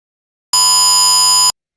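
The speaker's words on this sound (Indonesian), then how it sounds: "itu adalah suara dari sinyal 1000 Hz" A 1000 Hz sine test tone generated in Python plays as a single steady, loud beep lasting about one second, starting and stopping abruptly with no voices.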